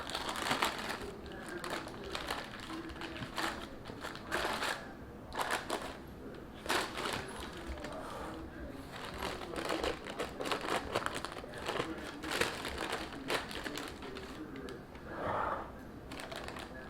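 Wax paper crinkles and crackles in irregular bursts up close while pie dough is turned into a pie pan, rustling on and off throughout with brief quieter gaps.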